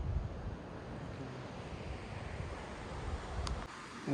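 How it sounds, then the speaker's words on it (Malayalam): Rushing snowmelt water at Jogini waterfall near Manali, a steady broadband roar mixed with wind noise on the microphone, moderately loud and continuous, with no one speaking. "ഇതേ കാണുന്നതാണ് നമ്മുടെ വാട്ടർഫാൾസ്. മേലേന്ന് മഞ്ഞുരുകി വരുന്ന വെള്ളമാണ്."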